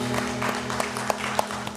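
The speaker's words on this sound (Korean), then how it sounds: "박수하겠습니다." A church congregation applauds together at a midweek prayer service, a steady wash of many hands clapping with a low hum underneath.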